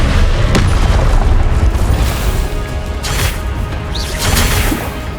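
In Hogwarts Legacy, a Confringo blasting curse erupts in a loud booming explosion with crashing debris and whooshing bursts, rumbling heavily and rolling through a second blast near the end.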